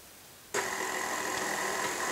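An electric mixer switches on abruptly and runs at a steady, loud whir while beating buttercream icing in a bowl wrapped with a dish towel, with no talking.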